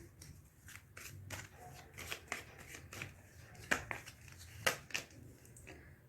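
Tarot cards being shuffled by hand produce a run of soft riffling and slapping strokes, with a few sharper card snaps near the middle and end, quiet and close, with no talking.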